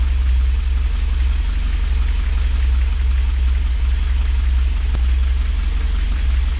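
A car engine runs at a steady idle just after start-up, with a deep constant rumble and a light tappety ticking from the shims under it, recorded close and loud with no talk.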